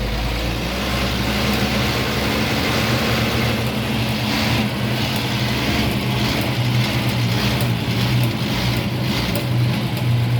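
Star 200 truck engine idling with an uneven, jerky rough running, a loud steady low rumble with a throbbing pulse from close by.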